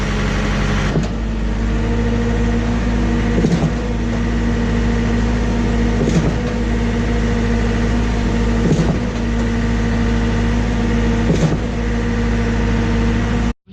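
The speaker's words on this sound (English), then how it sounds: "We're pumping, got 50 foot of hose on the ground" Schwing concrete pump running on a job site with hose laid on the ground, a loud, steady diesel drone broken by a regular knock or thump every two to three seconds as the pump strokes.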